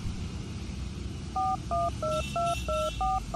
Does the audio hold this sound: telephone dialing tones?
yes